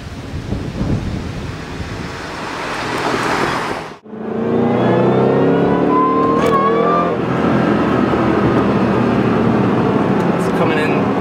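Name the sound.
Ford Mustang Roush 427R supercharger whine at full throttle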